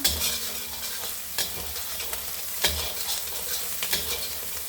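Garlic and onion fry with egg in a pan for fried rice, giving a steady sizzle broken by several sharp scrapes and clinks of a utensil stirring, close and fairly quiet.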